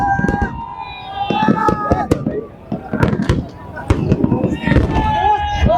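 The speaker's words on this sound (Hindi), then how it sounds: "आतिशबाजी लाइव जो है मनाज़िर आप देख रहे हैं।" Fireworks bursting over Lahore after the Lahore Qalandars' PSL final win, a dense run of sharp cracks and booms close by, layered over a noisy celebrating crowd with voices and whistles throughout.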